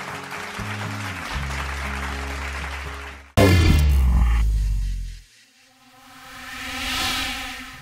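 Studio audience applause welcoming a mother and her younger sister onto a Vietnamese matchmaking show stage, a broad steady wash of clapping under music for about three seconds, then a loud musical sting and swelling theme.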